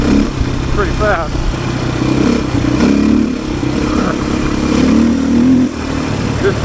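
A Beta 500 RS dirt bike runs fast along a rough, rocky trail at around fifty, its engine drone steady and loud throughout with brief rising revs and wind buffeting.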